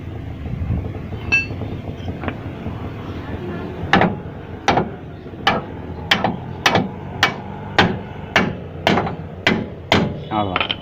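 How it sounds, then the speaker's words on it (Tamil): A hammer taps a stay bolt into place on a TVS King auto-rickshaw's two-stroke engine, a dozen sharp metallic knocks in an even, quickening rhythm close by, with faint talk in the background. "ஸ்டே போல்ட்டை இப்படி தட்டி விட்டிங்கன்னா கரெக்டாக வந்து ஸ்டே போல்ட் வந்து அதோட இடத்துல வந்துடும்"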